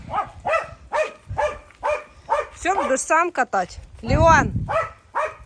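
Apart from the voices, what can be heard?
dog barking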